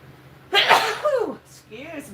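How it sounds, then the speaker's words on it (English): A woman sneezes once, close and sharp, with a sudden loud burst and a breathy vocal tail, followed by a quieter voiced sound afterward. "I'm gonna sneeze again."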